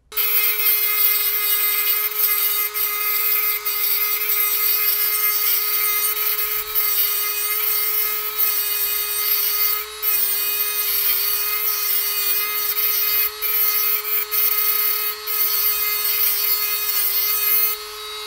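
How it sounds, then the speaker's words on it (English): Cordless 8V rotary tool grinding a 20-degree point on a tungsten welding electrode, a loud, steady high-pitched motor whine with a gritty grinding rasp and brief dips as the electrode is repositioned. "So I'm going to give myself a 20-degree point."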